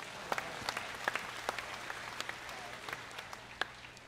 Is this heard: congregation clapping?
yes